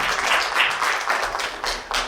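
An audience at a theatre performance applauds the new playwrights, with a close, lively burst of clapping in uneven waves that carries on steadily.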